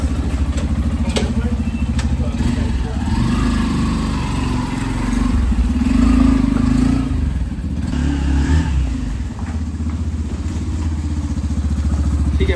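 A rented motorcycle in Nepal runs with a steady, close engine drone that rises and falls slightly as it rides, loud and continuous with no talk.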